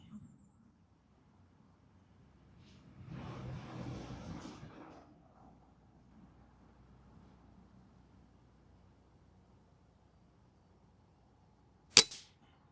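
An airgun rifle fires a single sharp, close crack near the end, after a quiet stretch broken by a brief burst of low rustling handling noise.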